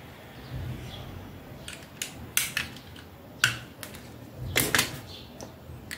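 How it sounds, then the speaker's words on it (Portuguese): A utility knife cuts away part of a small scissors button during a craft project, giving a few sharp, quiet clicks and snaps spaced over several seconds against a soft, low background hum. "Aí eu vou tirar com estilete essa parte aqui, né?"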